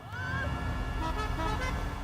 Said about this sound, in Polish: Ej, co masz za klakson?